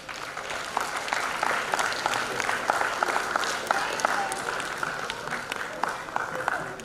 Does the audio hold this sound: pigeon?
no